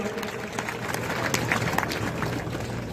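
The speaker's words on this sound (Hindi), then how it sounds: "ताली बजाएं" Audience clapping at a Hindu anniversary celebration for Raja Raghunath Singh Maharaj, a steady wash of many hands with crowd murmur and a voice underneath, moderately loud throughout.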